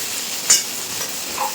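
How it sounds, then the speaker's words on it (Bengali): Green chillies and onions fry in oil, a brief steady sizzle with one sharp stirring clink near the start, close and moderately loud. "কাঁচা লঙ্কাগুলো তো দিয়ে একটু হালকা করে ভেজে নেব"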